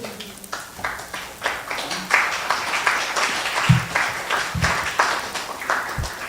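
An audience claps after a poem at a tribute gathering for Allen Ginsberg, the applause scattered and fairly steady at moderate loudness, with a couple of low thumps and faint murmurs mixed in.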